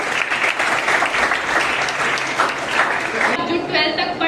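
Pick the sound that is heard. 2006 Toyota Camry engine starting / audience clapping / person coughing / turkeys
audience clapping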